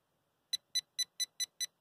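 A Whites Bullet TRX metal detector sweeps over a piece of gold and answers with a quick run of seven sharp, evenly spaced electronic beeps, close and clear against near silence.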